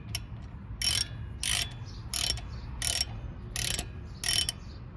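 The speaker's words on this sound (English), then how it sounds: "you want to take your ratchet This is the 14 millimeter socket." Ratchet with a 14 mm socket working on the front brakes of a Chrysler: six bursts of sharp clicking ratchet strokes at a steady rhythm, close up, with short quiet gaps between each pull.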